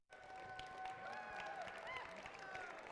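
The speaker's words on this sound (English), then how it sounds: "Let's have a round of applause for all of the teams competing here today." Crowd applause for competing robotics teams at an FTC robotics qualifier tournament in Rhode Island, a steady wash of clapping and some cheering held throughout, with tonal whines and arena noise underneath.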